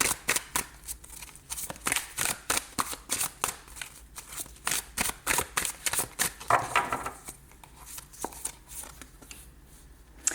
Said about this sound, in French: On va prendre une petite carte